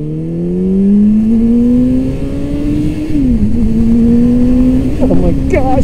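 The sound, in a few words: motorcycle accelerating on throttle, Hayabusa or Gixxer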